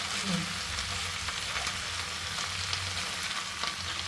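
Chennangi leaves fry in oil for a chutney, making a continuous moderate sizzle and crackle with occasional stirring throughout.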